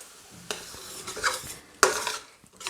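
A utensil scrapes and clinks against a pan in uneven strokes, stirring a soft, faintly sizzling beef stroganoff sauce of flour and water; close and fairly quiet.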